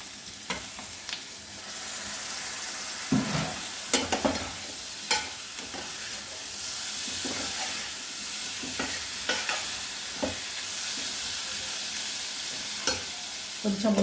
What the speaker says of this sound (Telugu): ఇప్పుడు ఈ టమాటా ముక్కలు వేసి కొంచెం మగ్గనిద్దాము.